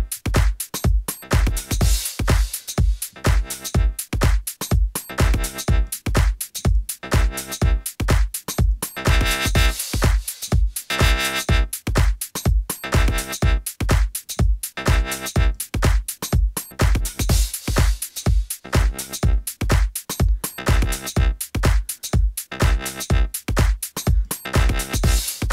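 Minimal techno loop built on a percussive synth tone modulated by an LFO, punchy kick-like hits pulsing in a fast steady rhythm whose bright texture shifts and evolves, loud and continuous.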